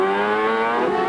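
A CART open-wheel race car screaming at close to 14,000 RPM around the Laguna Seca road course during the 1997 Monterey Grand Prix, a loud, piercing, high-pitched engine note sustained through the whole second.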